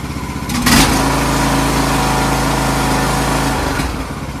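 A salvaged Craftsman small engine, its choke flap stuck, starts up and runs at a steady, close, loud idle for several seconds before slowing near the end; no talking over it.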